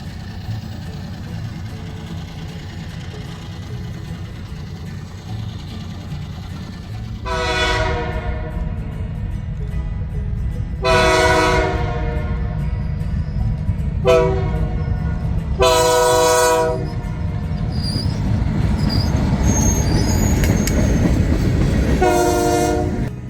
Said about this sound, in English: the train would back onto the main line and highball to Statesville